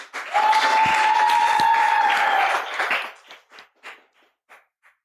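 Audience clapping for speaker Diego Jose Martin, a short burst of applause under a sustained tonal ring that fades into a few scattered claps and taps.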